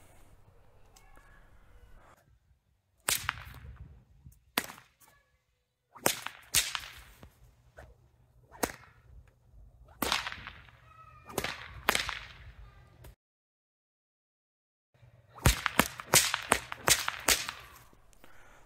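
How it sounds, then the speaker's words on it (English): Whip cracker made with four strands doubled over, cracked repeatedly in short sharp snaps, some single and some in quick bursts, muffled and close, with quiet pauses between. "Okay, so now we have four strands doubled over."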